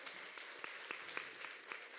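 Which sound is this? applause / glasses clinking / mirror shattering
applause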